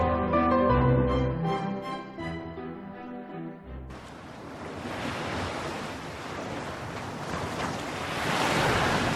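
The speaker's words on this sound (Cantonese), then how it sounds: "藍天碧海，哇，啲浪又冇乜，清風送爽" Sea waves roll in at Tai Long Sai Wan beach under a breeze, a broad surf wash with wind buffeting the microphone, starting after a few seconds of music and building steadily louder.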